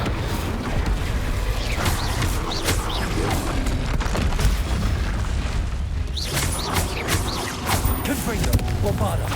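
Fire spell cast in the Hogwarts Legacy video game during a busy spell-combat sequence, with dense booming bursts and crackling impacts layered over continuous loud game noise, no talk.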